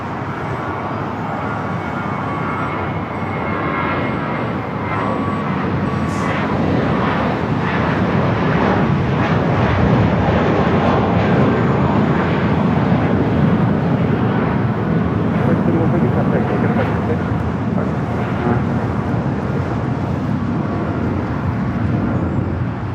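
A United airliner takes off from runway 25 right at Los Angeles International Airport, its jet engines producing a loud, broad, steady roar that swells and holds throughout, heard from fairly close by.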